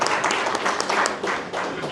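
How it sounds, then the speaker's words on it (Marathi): An audience at an indoor talk gives a short burst of loud applause, dense overlapping claps that swell and ease slightly over two seconds without any voices. "एकदा जोरदार टाळ्या"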